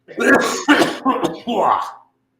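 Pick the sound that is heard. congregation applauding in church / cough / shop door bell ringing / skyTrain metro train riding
cough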